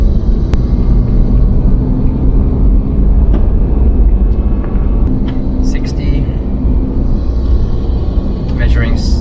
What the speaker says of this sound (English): Okay, we're driving at the moment